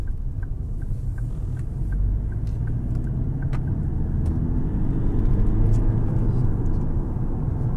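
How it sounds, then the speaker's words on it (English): A 2010 Ford Kuga 4x4 Zetec cruises along a bypass, a steady low road rumble and tyre roar heard from inside the cabin, with a faint repeating tick early on, continuous and moderately loud. "we're just going to take the Kuga onto the bypass and see how it performs"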